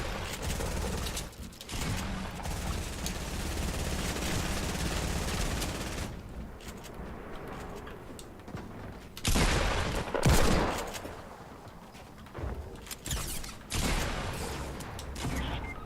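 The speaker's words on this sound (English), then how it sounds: "Shots right on the other side of this wall." Rapid automatic gunfire and bursts of shots crackle in a battle royale video game, coming in dense volleys that stop and start with short gaps.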